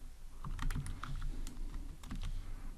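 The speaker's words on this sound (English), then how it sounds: "and we type here" Close, clear clicks of typing on a computer keyboard while writing Android code, in two quick bursts of keystrokes separated by a short pause, with no voice over them.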